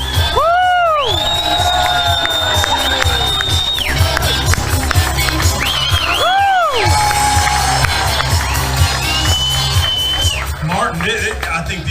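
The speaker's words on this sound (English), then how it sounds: "put your hands together for Martin" Crowd at a Toledo Bend fishing tournament weigh-in cheering for Martin of Duck Dynasty, loud sustained roar with whoops and shouts, plus bright whistle-like tones sweeping over the noise throughout.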